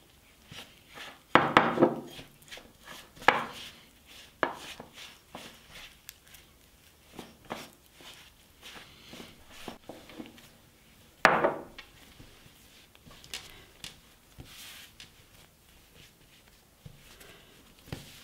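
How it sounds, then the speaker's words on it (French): Fresh durum wheat dough for orecchiette is kneaded by hand, heard as scattered soft thumps and pressing knocks on a work surface, irregular and close, with a few louder slaps amid quiet stretches. "Je vais travailler la pâte quelques minutes."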